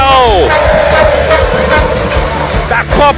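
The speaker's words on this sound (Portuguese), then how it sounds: "Vamos agora para a torcida do Esporte Clube Ribeiro Junqueira, fazendo uma grande festa aqui nas quartas de final" Supporters of Esporte Clube Ribeiro Junqueira at a Copa dos Campeões 2023 quarter-final football match roar and chant together, a loud, dense crowd noise with whistles and shouts rising over it.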